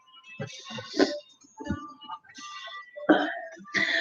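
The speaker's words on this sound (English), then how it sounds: "This cough just will not go away." A man coughs and clears his throat in a persistent, rough fit, several short harsh bursts close to the microphone with brief pauses between them.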